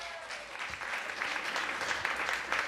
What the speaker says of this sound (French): comme a dit notre MC Marianne, on applaudit même si on n'est pas d'accord.